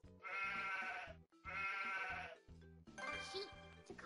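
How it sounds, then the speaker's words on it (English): Sheep bleating in the Bubble Guppies video game, three loud, close bleats in a row, each drawn-out and wavering, with short gaps between them. "Sheep. To call the sheep,"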